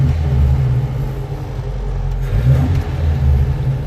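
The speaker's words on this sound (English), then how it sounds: "I'm gonna push the gas." Carbureted B18 engine in a Volvo Amazon 122S, running rough and overheating, revved steadily with a low, rumbling, slightly uneven drone throughout, close and loud with no voices.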